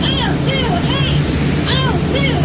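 Rushing waterfall on Disney's Jungle Cruise ride, a loud, continuous roar of falling water heard close by, with overlapping voices and whooping sounds on top.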